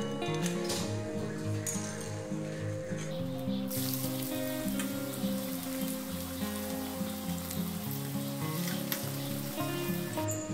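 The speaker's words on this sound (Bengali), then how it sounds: "একটু মুচমুচে করে ভেজে নিতে হবে।" Potato peels fry crisp in oil with a continuous crackling sizzle, close and steady from start to end, over a bed of background music.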